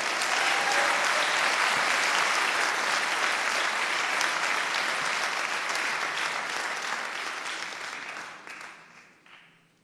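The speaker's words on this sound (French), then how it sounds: "Je vous demande donc d'applaudir la ministre du gouvernement, Abidel." A large audience applauds loudly and steadily, the clapping sustained for several seconds before gradually tapering off and fading out.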